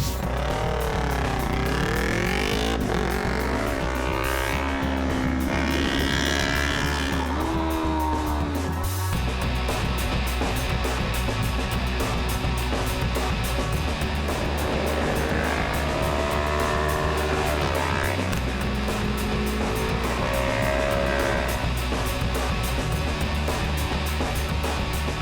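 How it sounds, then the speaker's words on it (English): A Yamaha R3 sport bike laps a tight, twisty race track in a 2021 South African superbike series setting, its engine note rising and falling steadily through gears and corners, loud and continuous throughout with a sharp shift or cut midway. "I've managed to get myself one of the R3 Yamaha machines, come out to the track here and see if I can fit on it first of all, and do some laps"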